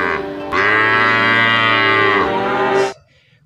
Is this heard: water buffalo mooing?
yes